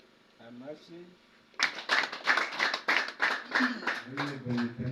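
Wedding guests clap in a quick, rhythmic burst that starts suddenly after a short stretch of voices and continues loud and close, with voices joining in toward the end.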